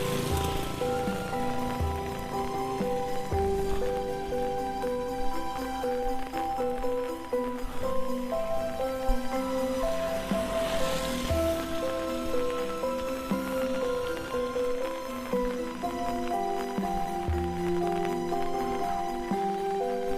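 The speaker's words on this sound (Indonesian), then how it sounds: "Ini lagi hujan lur." Rain falls steadily on a village in Purbalingga, Central Java, a continuous dense patter under a persistent background hum, with no voices present.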